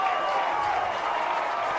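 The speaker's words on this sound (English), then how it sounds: "Crowd still on their feet." A crowd at a high school 6A baseball semifinal keeps up continuous, dense applause and cheering, steady and fairly loud throughout.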